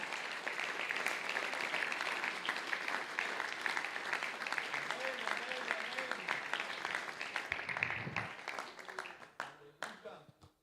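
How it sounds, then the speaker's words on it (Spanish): A church congregation applauds during a men's congress service, sustained enthusiastic clapping from many hands that gradually thins and fades out near the end. "Denle aplausos al Señor. Déselos con ganas."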